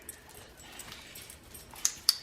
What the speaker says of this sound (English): Oh, what a good little doggy.